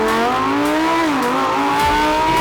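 A Lamborghini engine drones loud and close with a steady high-pitched tone that dips slightly and rises again as it revs, lasting only a couple of seconds with no talk.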